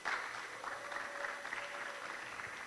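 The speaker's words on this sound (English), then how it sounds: "Another round of applause, you guys." Faint, scattered audience clapping at a DevFest tech event, a short thin round of applause heard from a distance with a soft steady tone running underneath.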